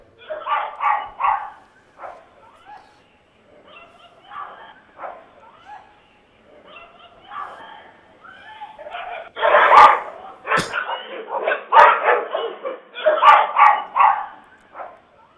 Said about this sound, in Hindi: ये सारे आवारा कुत्ते उस महिला को नोचने पर, चीरने पर लगे हुए थे।